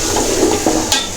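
Ground cumin hitting hot oil in a frying pan, giving a steady close sizzle with a few stirring scrapes and a brief brighter hiss near the end.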